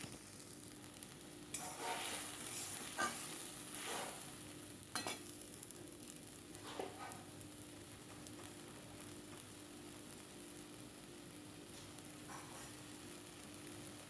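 Spice paste fries in a hot pan with a steady soft sizzle, broken by occasional scraping stirs of a spoon, heard close and fairly quiet with no talking.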